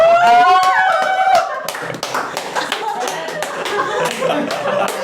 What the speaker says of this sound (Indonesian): Tepuk tangan buat Grab.